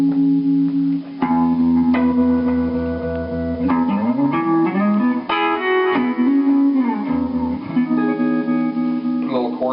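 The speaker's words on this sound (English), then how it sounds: "start out with some kind of more basic sounds, some delay and tremolo, and a little bit of reverb" Sustained electric guitar chords ring out with pulsing tremolo, trailing delay repeats and a wash of reverb, played alone at a steady moderate volume.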